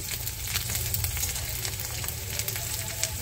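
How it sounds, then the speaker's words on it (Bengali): Garlic frying in oil in a pan until reddish, a dense, steady crackling sizzle with small pops throughout, close and even, with no talking. "দেখো রসুনটা একটু লাল লাল করে ভেজে নেব"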